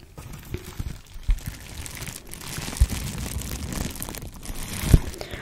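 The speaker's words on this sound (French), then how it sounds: "Donc il s'agit de papier bulle." Close, continuous crinkling and crackling of bubble wrap being handled, with a few sharper crunches and pops scattered throughout.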